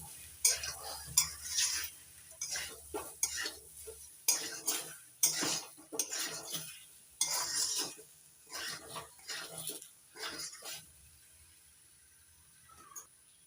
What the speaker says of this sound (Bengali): চিনি নাড়াচাড়া করে ভালো করে মিশিয়ে নিচ্ছি গাঠি কচুর সঙ্গে